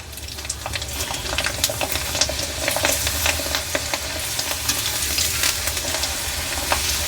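Rice flour vadiyalu fry in hot oil with a continuous bright sizzle, crackling pops and occasional stirring scrapes, close and steady without talk.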